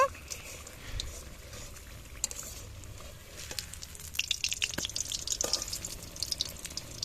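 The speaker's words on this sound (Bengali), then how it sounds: "একটা সাইড ভাজা হয়ে গেছে মায়া আবার উল্টে দিচ্ছে" Sweet semolina pitha fries quietly in oil in a pan, a soft steady sizzle broken by scraping and light clatter as the cake is turned over, with livelier crackling toward the end.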